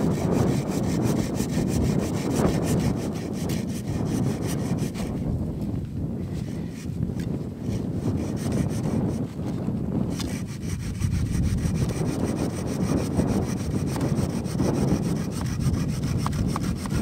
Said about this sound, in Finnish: Sitten katsotaas vielä tota sahaa.